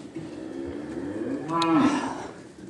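A cow on a farm lets out a single loud, drawn-out moo near the end, close by, with outdoor farmyard noise before it and no one talking.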